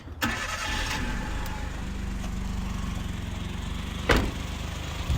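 A 1996 Suzuki Jimny's K6A engine cranks and catches, then settles into a steady rumbling idle close by, with a couple of brief clunks along the way.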